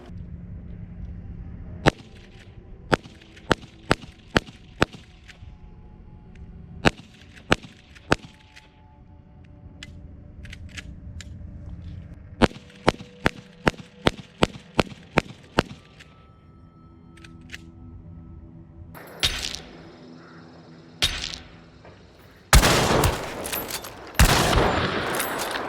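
A Henry lever-action rifle is fired from the shoulder at an indoor range, loading .38 Special and .357 rounds. Sharp, loud single shots crack out in irregular clusters, with mechanical clatter and rustling between them and heavier noise bursts near the end.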